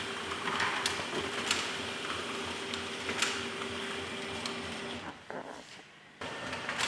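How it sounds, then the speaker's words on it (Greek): HP LaserJet P2055d laser printer running normally, a steady mechanical whir and hum with a few clicks, close, briefly changing pitch and dropping near the end before resuming. "Να που ο εκτυπωτής μας λειτουργεί κανονικά."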